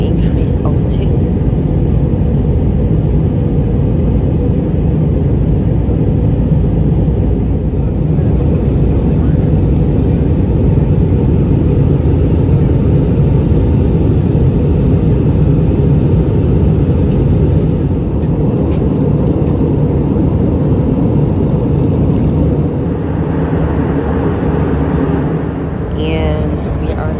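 Steady, loud roar of the engines heard from inside an Allegiant Airbus A319 cabin in flight, a broad constant drone holding without a break throughout.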